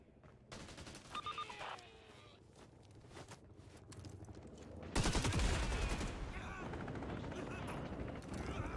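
Gunfire from the Caliber shooter game starts as scattered distant cracks and rattles, then swells midway into a loud, sustained burst of rapid automatic fire that continues to the end.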